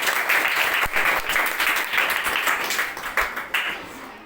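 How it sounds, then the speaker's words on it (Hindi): Children clap loudly together in a classroom, a sustained burst of applause lasting several seconds that tapers slightly toward the end, with no talk over it. "पहले जोरदार ताली नेहा के लिए"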